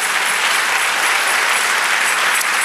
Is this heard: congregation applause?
yes